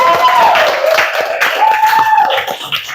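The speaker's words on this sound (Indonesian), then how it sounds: "Tepuk tangan buat temannya." A classroom group claps for classmates after a presentation, with a brief burst of scattered hand claps mixed with voices talking over it.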